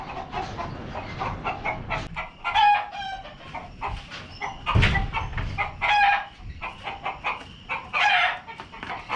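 A farm rooster crows repeatedly among clucking chickens, the calls close and loud, rising and falling over a steady scratchy background.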